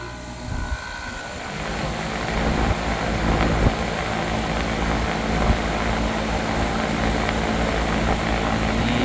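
A packaged rooftop air conditioning unit's fan runs after its contactor is pushed in, giving a broad, steady whooshing roar with a low rhythmic throb that stays even and close throughout.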